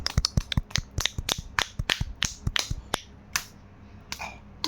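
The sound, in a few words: hand clapping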